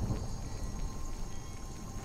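Rain falls steadily on a dark, dreary morning in Skyrim Special Edition. It makes a faint, constant patter with a soft low rumble, and no voices are heard.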